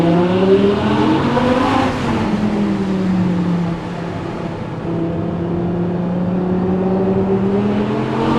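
A rear mid-engined, naturally aspirated V10 Audi R8 LMX drives on the road, its engine droning steadily close by, swelling briefly, then easing to a smoother, even cruise.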